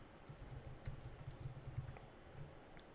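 Someone types on a computer keyboard, a faint, quick run of soft key clicks with a few louder taps, close by in a quiet room and without voices.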